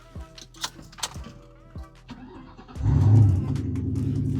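A 2004 Ford Mustang GT is started after a few clicks and faint knocks; the engine cranks briefly, then catches with a loud surge and settles into a steady low idle.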